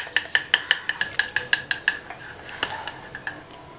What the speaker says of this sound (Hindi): और अच्छे से फेंट लेंगे